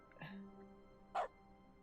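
Dog barking in The Stanley Parable Ultra Deluxe during dog mode, two short, faint barks about a second apart over a quiet background.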